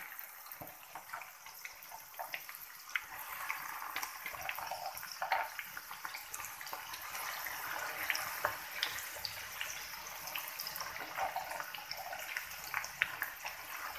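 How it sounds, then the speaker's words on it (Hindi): Okra (bhindi) fries in hot oil, a soft, steady crackle and hiss with scattered pops that carries on throughout at a moderate, somewhat faint level, with no voices. "ऑयल गर्म हो गया, अब इसके अंदर डालेंगे भिंडी"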